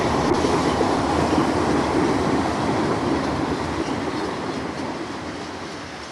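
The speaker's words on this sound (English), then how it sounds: "Parlor cars and an ex-New Haven 6-bedroom lounge car follow the leader at Hollis." Parlor cars and an ex-New Haven six-bedroom lounge car behind an ALCo diesel roll past Hollis, a steady close wheel roar that slowly fades as the train moves away.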